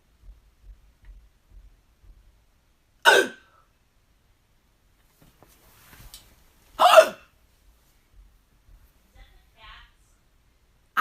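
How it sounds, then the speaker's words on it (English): Two sharp hiccups, about four seconds apart, stand out against a mostly quiet background with faint small sounds between them. "How do you stop the hiccups from being around anymore?"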